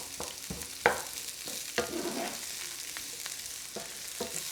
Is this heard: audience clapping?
no